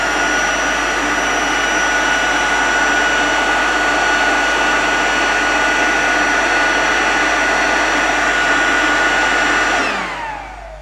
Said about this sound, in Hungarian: ennek a lombfúvónak a segítségével igen, rendesen meg tudjuk emelni ezt a papírt